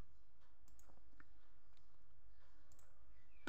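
A computer mouse clicking while an online form is filled in, a few faint, isolated clicks spaced apart over a very quiet background.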